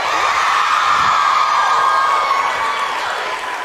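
A large live audience cheers, whoops and applauds in a loud, continuous wave of crowd noise that holds steady throughout with no speech over it.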